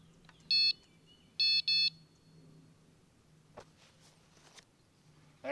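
Electronic carp fishing bite alarm mounted on a carp pod at a bank fishing spot, giving one short high beep and then two quick beeps close by, followed by faint handling knocks.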